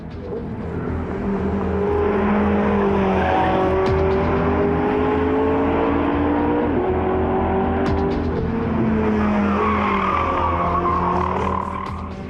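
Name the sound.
918 Spyder hybrid sports car driving on racetrack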